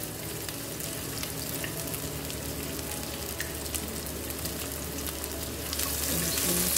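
Onion, thyme, garlic, ginger and pimento seed sizzle steadily in hot oil in a pan, a continuous close frying hiss with faint scraping from stirring, swelling slightly louder near the end.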